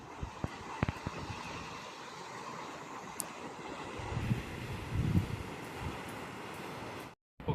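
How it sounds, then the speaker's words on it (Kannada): Wind gusting steadily across a seaside cliff near the Gokarna cave temple, a broad, rushing roar with rough buffeting and a few soft knocks, loud and close throughout. "ಗಾಳಿ ಬೀಸ್ತಾ ಇದೆ."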